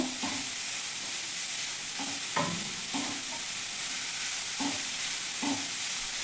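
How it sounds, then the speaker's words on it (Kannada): Chopped cabbage stir-frying in a pan for veg momos: a steady hiss of frying with a spatula scraping and tapping the pan at irregular intervals, close and constant throughout. "ಕ್ಯಾಬೇಜ್ ಕಟ್ ಮಾಡ್ಕೊಂಡಿದ್ನಲ್ಲ ಅದನ್ನು ಹಾಕ್ತಾ ಇದ್ದೀನಿ. ಅದು ಸ್ವಲ್ಪ ಫ್ರೈ ಆಗಬೇಕು."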